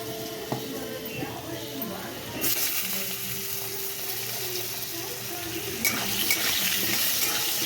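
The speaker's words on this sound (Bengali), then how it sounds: "আলুগুলো আমি একটু ভেজে নেব" Potatoes frying in a wok-style kadai, a steady close sizzle with occasional stirring clatter that grows louder partway through, with a voice speaking faintly underneath.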